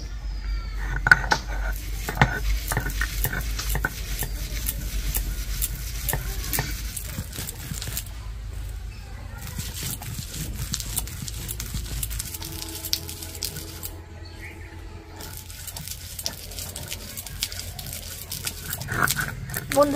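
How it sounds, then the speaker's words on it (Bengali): Soaked puffed rice is ground by hand on a stone grinding slab, giving a continuous, close scraping and rubbing texture with small knocks, and a low background hum underneath. "আমি এখানে শিলপাটায় মুড়িটা বাটছি"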